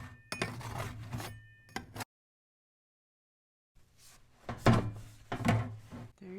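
Baked whole wheat bread being loosened from a metal loaf pan: close, hollow knocks and scraping thunks in two bursts separated by a silent gap.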